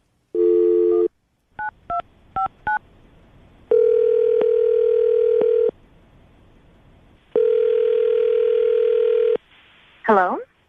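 A telephone call is dialed: a brief dial tone, a string of quick touch-tone key beeps, then two long ringback tones, each followed by a pause. A voice speaks briefly at the end.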